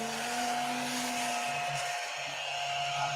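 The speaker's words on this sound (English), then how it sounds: "I want that little vacuum." A small vacuum cleaner runs steadily nearby, a constant motor whine with a thin high hum that holds at an even loudness throughout.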